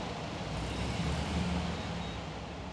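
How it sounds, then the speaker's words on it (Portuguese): Cars passing along a road, a steady broadband traffic rumble that swells slightly mid-way, moderately distant with no talking. "Os carros passando aqui agora."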